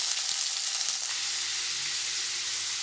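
Chopped onion frying in oil with popped mustard seeds and urad dal, a steady hissing sizzle that stays even and fairly close, with a few faint taps from a spoon.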